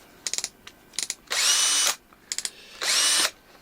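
A power screwdriver whirs in short bursts, with quick clicking pulses between two longer high-pitched runs as screws are driven into a Stratocaster guitar, close and fairly loud.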